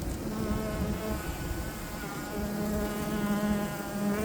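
Honeybees in a small mini mating nuc hum in a continuous close buzz, many wings droning together at a steady level with slight swells and no voices.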